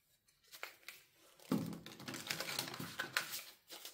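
Tarot cards from an Animal Apothecary deck being shuffled by hand, a quiet riffling and crinkling patter that starts faintly, then swells into a dense, papery flurry of rapid card flicks close up, with no talk.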